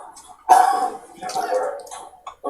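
A person coughs harshly in a couple of raspy, throaty bursts close by, rough and gurgling, with short pauses between them.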